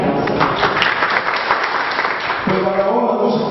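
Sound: audience applause

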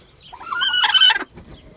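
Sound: chickens clucking

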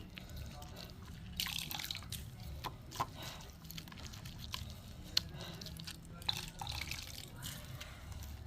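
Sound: water squeezed out of grated radish dripping

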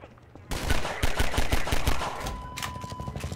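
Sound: pistol gunfire in Half-Life 2 video game

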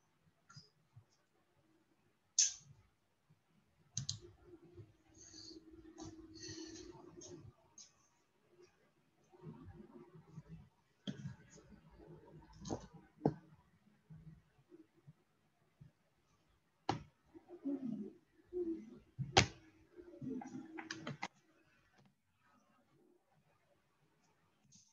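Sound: typing on a computer keyboard

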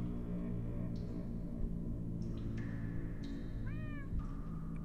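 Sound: cats meowing in a video game

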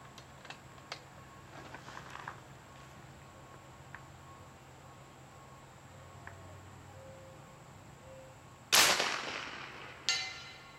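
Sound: big bore air gun shot

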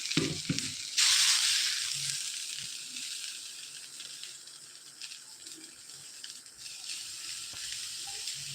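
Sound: dosa batter sizzling on a hot pan

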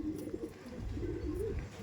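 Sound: Madrasi pigeons

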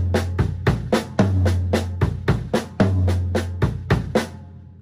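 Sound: drum kit linear phrase: right, left, left, kick, kick, left

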